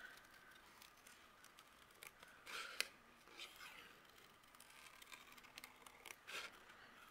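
Scissors snip through paper for a cardmaking project, making soft, irregular crisp cuts up close at low volume, with quiet breathy voice sounds in the background.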